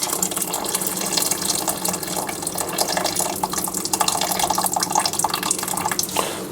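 Chicken broth is poured off cooked chicken into another container for soup. It makes a steady, close liquid splashing and gurgling that runs for several seconds without a break.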